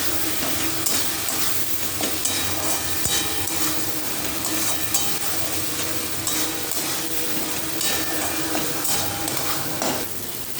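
Tomatoes with salt being stirred and sautéed in oil in a pan, a steady close sizzle with scraping spoon strokes throughout, no talk.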